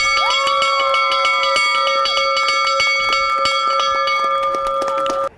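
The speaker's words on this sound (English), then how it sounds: "that bell rang out loud and clear" A loud bell rings repeatedly in rapid, sustained strikes, its bright overtones lingering and layering until the ringing cuts off abruptly at the end.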